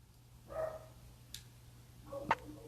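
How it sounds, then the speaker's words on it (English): A pet dog barks indoors, with two faint, muffled barks a couple of seconds apart under a low steady hum and a small tick. "my dog's barking"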